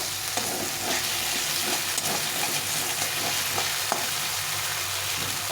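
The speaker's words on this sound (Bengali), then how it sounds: "তো এটা ভালো করে কষিয়ে নিতে হবে অনেকক্ষণ ধরে কষিয়ে নিতে হবে" Spice paste (masala) fries in oil with a steady, close sizzle, while a spatula stirs and scrapes against the pan in soft, irregular strokes throughout.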